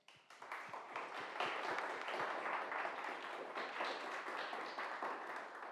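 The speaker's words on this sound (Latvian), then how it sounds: "Paldies vēlreiz, aplausi" A forum audience applauds, a sustained wash of many hands clapping at moderate distance, beginning abruptly and holding steady for several seconds without voices.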